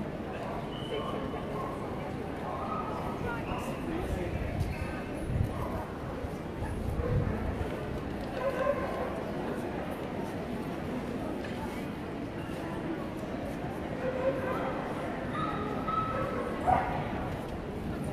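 Dogs at an East of England gundog show, including a Hungarian Vizsla and a Labrador, give occasional barks and yips amid steady crowd murmur and talk in a large show setting.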